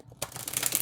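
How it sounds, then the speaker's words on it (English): Tarot cards get one quick shuffle, a short burst of rapid riffling clicks rising after a brief pause, close and alone without speech. "Let's give it one quick shuffle."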